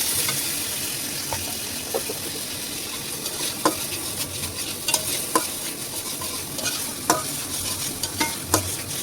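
Onion paste, ginger and cumin fry in a pan for a fish curry with aubergine, giving a soft continuous sizzle broken by occasional light scraping and stirring clicks.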